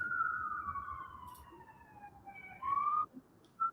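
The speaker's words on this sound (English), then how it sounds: "Oh, sorry about all the sirens." Emergency vehicle sirens wail outside, a sweeping tone gliding downward and then rising in short loud bursts near the end, with no talking over them.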